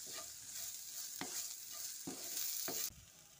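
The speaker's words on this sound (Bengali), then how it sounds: "এবার সবজির সঙ্গে ভালো করে মিশিয়ে দিচ্ছি।" Vegetables for veg spring rolls, seasoned with red chilli powder and black pepper, are stir-fried in a pan: a soft steady sizzle punctuated by several sharp spatula scrapes and knocks, then a sudden drop in sound near the end.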